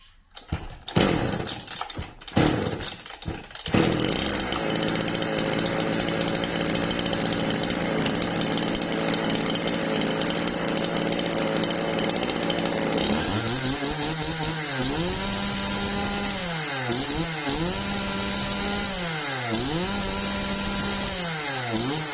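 Restored engine bearing Ford lettering, started after a few rough cranking bursts and then running steadily and loudly close by, with a buzzing saw-like drone and revving rising and falling in repeated swells near the end, no voices.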